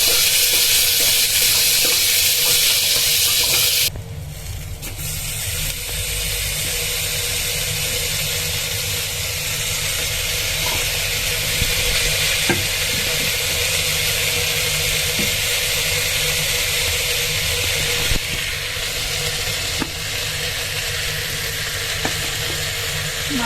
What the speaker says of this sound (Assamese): মটৰ গুচাই থৈছিলো সেইখিনি দি দিলো আৰু এপিনে গাজৰ দি দিছো এতিয়া অলপ লৰাই